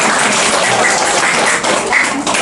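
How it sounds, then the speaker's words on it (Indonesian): A crowd at a 100th birthday celebration claps in dense, steady applause that continues for the full couple of seconds without a break. "Kasih tepuk tangan."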